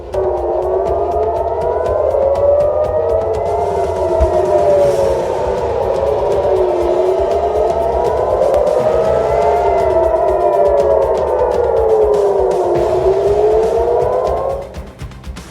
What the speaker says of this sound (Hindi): तेल अवीव रात भर सायरन की आवाज से गूंजता रहा